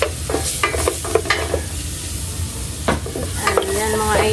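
Garlic frying in a pan for a merienda sopas sizzles close by, with a scrape of stirring and a few utensil clicks over a steady crackle.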